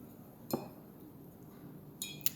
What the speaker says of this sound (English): cleaning off my brush